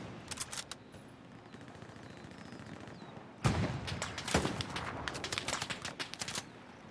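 Gunfire in the World War II shooter Hell Let Loose: scattered rifle shots at first, then a louder burst of rapid shots and rattling fire from about halfway on, some close and some distant.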